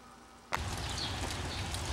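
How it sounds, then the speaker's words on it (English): Steady rain falling after a night of continuous downpour amid local flooding, a sudden dense hiss of drops that starts partway through and carries on evenly and fairly close. "since last night, it's just not stopped raining"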